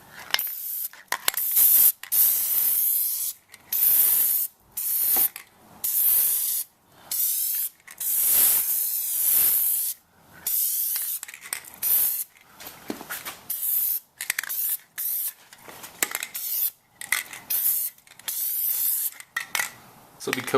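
Bursts of aerosol Plasti Dip sprayed onto a Toyota Tundra grill badge, loud hissing passes of a second or two separated by short pauses, close to the can.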